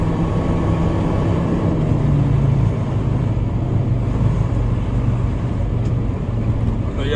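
An owner-operator truck rig drives through mud near a landfill, its engine a loud, steady low rumble and drone heard from the cab, with a faint tone gliding down early on.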